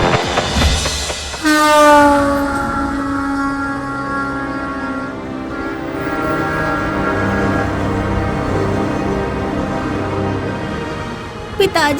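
At night a train passes nearby, sounding a loud, long horn blast that slowly fades, followed by a steady rumble and clatter of the cars rolling by.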